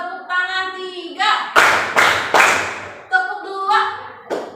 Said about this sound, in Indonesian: Tepuk tangan satu, tepuk tangan dua, tepuk tangan tiga